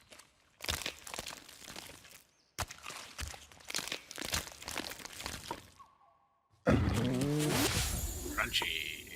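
In the video game Spore, a creature makes repeated crunching, crackling chomps in quick bursts. The sounds come in several dense runs separated by short silences, then give way to a louder stretch of mixed game noise.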